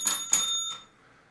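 Two quick metallic bicycle-style bell rings, close and bright, the second following about a quarter second after the first, each leaving a ringing tail that fades into near silence.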